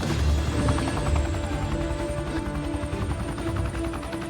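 A helicopter in a superhero movie scene drones with a dense, steady rotor thrum, loud and continuous, blended with heavy action-scene rumble.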